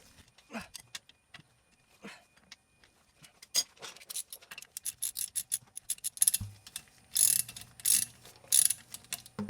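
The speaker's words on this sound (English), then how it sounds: "I have a really, really small half-drive wrench for whatever reason, or ratchet. So we're going to go righty, tighty, lefty, loosey." Small half-inch drive ratchet loosening the oil drain plug on a Mercedes SLK32 AMG, giving quiet scattered clicks at first, then faster bursts of sharp ratcheting clicks close up, followed by a low hum of fluid starting to drain.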